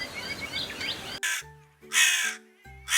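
A crow caws several times in harsh, loud, close bursts, following a brief stretch of softer background sound.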